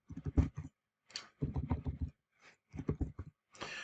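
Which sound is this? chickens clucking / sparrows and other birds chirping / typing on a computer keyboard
typing on a computer keyboard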